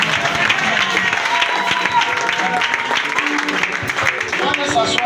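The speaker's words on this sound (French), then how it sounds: "Si tu acclames fort, Dieu va te bénir." A church congregation claps and cheers loudly during a deliverance service, a dense sustained roar of applause and voices up close, with shouting mixed through it.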